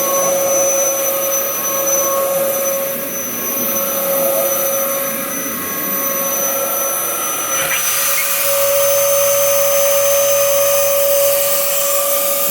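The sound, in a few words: Dyson DC07 upright vacuum cleaner running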